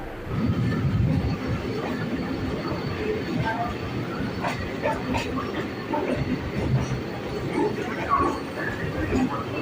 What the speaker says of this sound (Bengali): আমাদের ট্রেন ঢুকছে এখন কলকাতা স্টেশনে